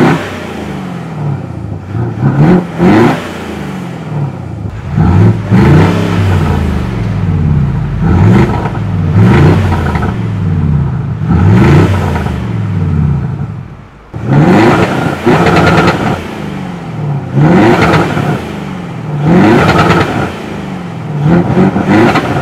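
Simulated diesel exhaust sound played through speakers on a Mercedes G350d, loud repeated revving swells rising and falling in pitch every few seconds, with a brief lull midway.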